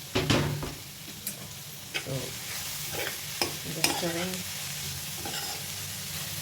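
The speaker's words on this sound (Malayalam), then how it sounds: "അതിനുശേഷം നമുക്ക് കുറച്ച് മഞ്ഞൾപ്പൊടിയും കൂടി ഇട്ടിട്ട് ഇത് ഒന്ന് വഴറ്റിയെടുക്കാം" Cabbage and beans thoran sautéed with turmeric in a pan, a soft steady sizzle broken by several stirring scrapes and clinks, with brief quiet voice sounds in the background.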